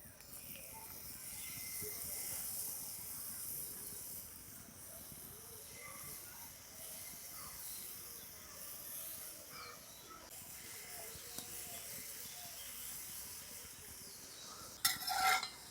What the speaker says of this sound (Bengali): এইভাবে লাল লাল করে ভেজে নিয়েছি